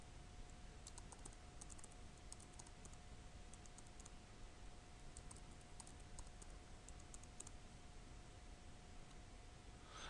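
Fingers tap out a password on a computer keyboard, with quiet irregular clusters of key clicks over a faint steady hum and no speech.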